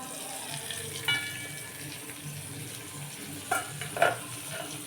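Tomato thokku sautés in a pan with a low, steady sizzle, interrupted by a few brief scraping stirs of a spoon, quiet and close.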